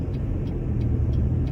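Steady road traffic with cars driving past, a continuous low rumble of engines and tyres that stays fairly close and even, with no voices over it.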